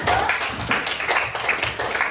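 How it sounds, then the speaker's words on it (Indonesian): Classmates in a school classroom give a round of applause for a student group after its presentation, a dense patter of clapping hands that stays steady and fairly close for about two seconds. "tepuk tangan dulu untuk kelompok 1"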